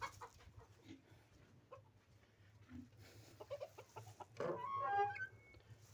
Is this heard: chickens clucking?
yes